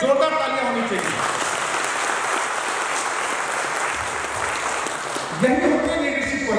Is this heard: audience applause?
yes